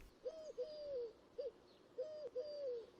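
A turtle dove coos near a Yorkshire church, giving short repeated soft phrases in a quiet, still setting.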